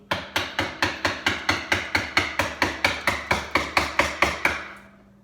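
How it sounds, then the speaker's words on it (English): Wood carving with a hand chisel struck by a mallet, about sixteen sharp, evenly spaced knocks close by, each followed by a short ring, then a brief fade into quiet. "you hold the chisel, and gives you more control over the angle itself"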